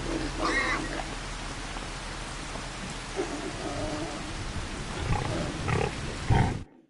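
Pigs on a farm with many piglets grunt and squeal in scattered bursts. A steady hiss, like rain, runs underneath and the sound cuts off abruptly at the end.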